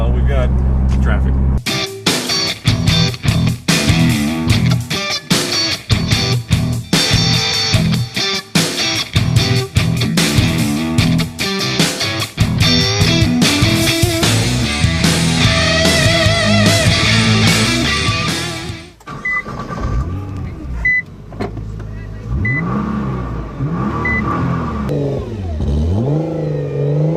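A 2015 Nissan GT-R Nismo engine runs under light throttle in traffic, its revs rising and settling in a loud, close drone with clattering textures, ending in a quieter idle-like stretch.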